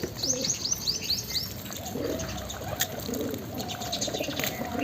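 Pigeons cooing in soft, rolling bursts close by, mixed with high chirps from other birds early on and a steady background hiss.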